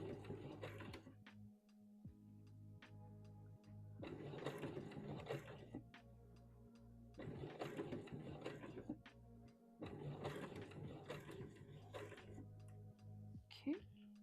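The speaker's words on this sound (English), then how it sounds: "Making sure we are sewing straight as best we can." A sewing machine stitches a seam on a wrap dress in several bursts of rapid mechanical whirring, separated by short pauses, close and moderately loud.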